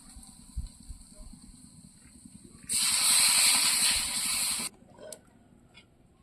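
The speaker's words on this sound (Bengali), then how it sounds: "ভালো করে কষিয়ে নিয়েছি, এবার জল দিয়ে দেবো।" Water poured into a hot pan of sautéed taro and fish curry sets off a sudden loud hiss lasting about two seconds, then settles into quieter bubbling beside low background noise.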